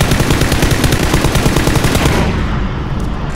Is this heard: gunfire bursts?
yes